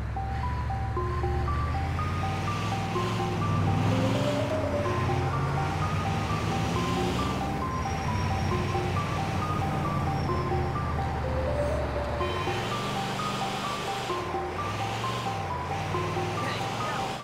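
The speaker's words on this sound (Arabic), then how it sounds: "شاحنة الايس كريم فيها أغنية سرية جدا أو بوري سري" Secret ice cream truck jingle in GTA 4: a bright, tinkly chime melody repeats steadily over a low rumbling engine, loud and continuous throughout, with no talking.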